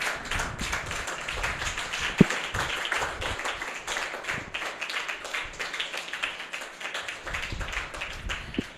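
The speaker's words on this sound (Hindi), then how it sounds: "बच्चों जोरदार तालियां होनी चाहिए" Children clapping at a felicitation ceremony, steady crisp hand claps that continue for about nine seconds with uneven rhythm, a few sharp individual claps standing out, and no talk over it.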